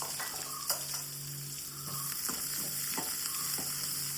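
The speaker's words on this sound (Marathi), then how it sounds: "पयले नाल्ल भाजून घेवया सय." Grated coconut and two sliced onions roast in a pan for a clam xacuti, with a constant close sizzle. A spatula scrapes and stirs over it in a few distinct strokes.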